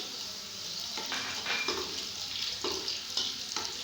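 Sliced onions fry in a pan with whole spices for a smoky fish pulao, a constant soft sizzling hiss broken by several light scraping strokes of a stirring spoon, with no speech.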